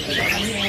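A tame pet bird in a bird-selling kiosk gives a brief, clear chirping call, close by, with faint background noise.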